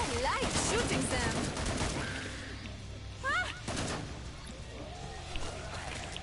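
Gunfire in the zombie shooter Killing Floor 2: heavy rapid weapon fire that is loudest at the start, then continues at a lower level with squealing creature noises and some talking mixed in.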